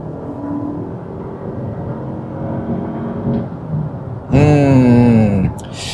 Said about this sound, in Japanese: 中間加速もね、試してみたいので、ちょっと踏んでいきましょうか。